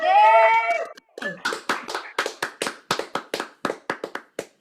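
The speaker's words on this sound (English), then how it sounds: "give a big round of applause once again for Alexander" At an open-stage show, a single loud whoop opens the moment, then a small audience gives a magician sparse, irregular applause: distinct separate claps, close and clear, trailing on in a loose rhythm.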